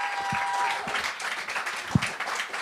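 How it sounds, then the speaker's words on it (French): Audience applause for a duo act on a televised talent gong show, fairly quiet and scattered, with a few louder individual claps standing out and faint crowd murmur beneath. "On les applaudit."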